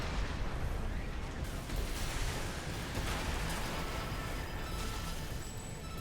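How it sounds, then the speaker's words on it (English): Earshot weapon fire in Armored Core 6 during a mech duel, a dense rumbling barrage of heavy blasts and bursts sustained throughout, loud and continuous with no clear gaps. "I'm going to fire my Earshot"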